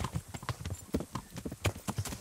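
Horse hooves clip-clop in Kingdom Come: Deliverance, a steady run of close, crisp strikes in an uneven trotting rhythm with no voices.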